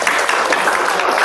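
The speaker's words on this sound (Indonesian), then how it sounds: "Ya, benar. Tepuk tangan." Dense applause from a classroom group, steady and fairly loud throughout with no talk over it.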